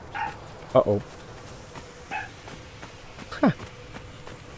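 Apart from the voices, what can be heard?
dog barking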